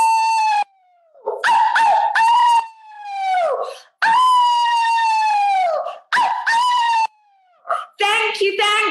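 A person howls like a wolf in long, rising and falling wails, several loud close howls broken by short pauses and breaths, a voice imitating a wolf's cry.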